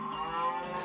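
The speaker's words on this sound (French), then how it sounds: "là ça fait le bruit des vaches par exemple" Cattle mooing in the PS1 game UFO Robot Grendizer: a single sustained, tonal low moo lasting under a second, clear and alone with no talk.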